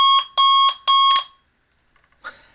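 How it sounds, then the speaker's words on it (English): A Sonic Bomb alarm clock sounds four loud, shrill electronic beeps in a quick even rhythm, each close and piercing, then cuts off, followed by near silence and a faint click. "I'm selling my super loud Sonic Bomb alarm clock, and I'm going to demo the features."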